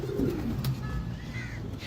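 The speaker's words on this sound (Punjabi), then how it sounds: "ਇਹ ਮੇਨ ਵੱਡਾ ਫਲਕਸ਼ੀਰ ਕਬੂਤਰ ਹੈ" A large Flakshir pigeon coos softly and close by, a low throaty murmur over a steady background hum.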